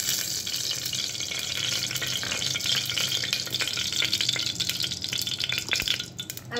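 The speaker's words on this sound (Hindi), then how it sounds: "अब मैं ये ऑयल इसके अंदर डाल देती हूँ।" Oil sizzling and crackling inside a pressure cooker on the stove, a loud, continuous frying hiss that holds steady throughout with no voices.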